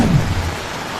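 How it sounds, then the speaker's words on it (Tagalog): Heavy rain from a low pressure area pours down in La Trinidad, Benguet, a dense, loud wash of noise with a deep rumble fading in the first half-second. "Kasunod ng malakas na pag-ulan"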